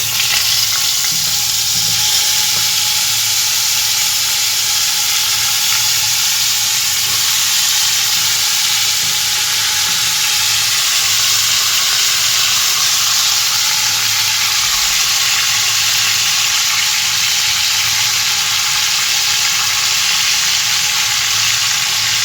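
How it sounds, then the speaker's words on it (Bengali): Panch phoron spices sizzle in hot oil as vegetables are added, making a loud, steady, continuous frying hiss that persists without a break. "এখানে গরম হয়ে গেছে, 5 ফোড়ন দিলাম একটুখানি"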